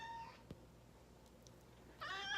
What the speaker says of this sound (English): I have a cat in my hands.